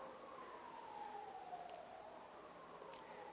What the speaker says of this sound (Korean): 제가 축하해 주는 사이렌 소리가 들리네요.